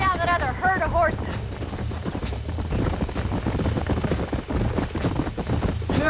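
Horse hooves in the Red Dead Redemption video game clip-clop in a quick, steady galloping rhythm. Game characters talk over the hoofbeats, and a brief whinny-like tone comes near the start.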